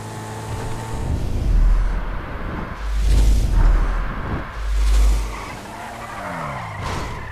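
Car tires skid and squeal repeatedly under hard braking through corners in Grand Theft Auto 5, with engine roar rising and falling between three loud swells over about seven seconds.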